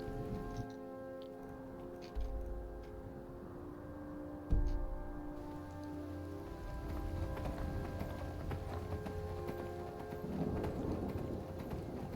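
Horse hooves galloping in the video game Skyrim, a steady run of clip-clop hoofbeats over a field, mixed with game music and ambient rumble at moderate volume.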